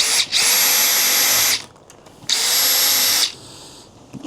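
A power drill whirs loudly in two short bursts of about a second and a half each, drilling pilot holes for hinges on oak Shaker-style cabinet doors, with a brief quiet gap between them.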